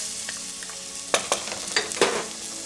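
Onions frying in a pan for Trinidad-style doubles, a steady sizzling hiss close by with several sharp crackles and utensil scrapes in the second half.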